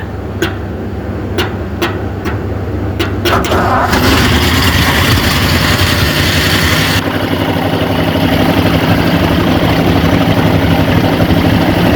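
A neglected 1950 Ford flathead V8 cranks in a few sharp, separate bursts, then catches and settles into a loud, steady, close idle that keeps running.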